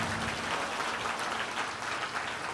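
A congregation at a Christian prayer gathering claps their hands together. The clapping is a dense, steady patter that lasts a few seconds, with no talking over it.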